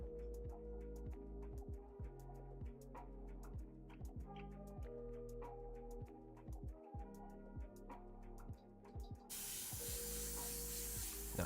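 An airbrush, blocked from sitting unused, sprays paint to clear its tip while a Warhammer 40k miniature is being painted. After a stretch of soft ticking and tonal background, a sudden continuous hiss of spray bursts in near the end.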